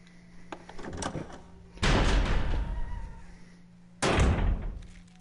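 A door opens with heavy mechanical noise in the Resident Evil REmake video game, a few small clicks giving way to two loud, sustained rumbling passages, each starting suddenly.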